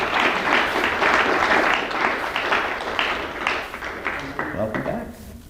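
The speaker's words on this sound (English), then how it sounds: "Big round of applause for Wendy." Audience applause for Wendy at an emotional-release session, a fairly loud burst of clapping that gradually thins and fades, with a voice speaking over the end.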